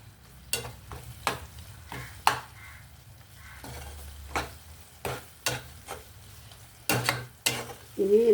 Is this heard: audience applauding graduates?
no